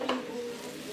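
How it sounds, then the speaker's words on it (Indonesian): Ground spice paste for Padang-style chicken gulai sizzles hot in a wok while a utensil stirs it through, a close, steady frying hiss with a brief scraping stir near the start. "lalu kita masukin bumbu halus ke kuali"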